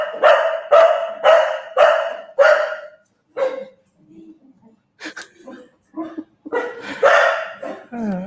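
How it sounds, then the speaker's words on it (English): A dog barks loudly nearby in a rapid burst of five barks, falls quiet, then barks and yips again while a person talks over the commotion. "Excuse the dog."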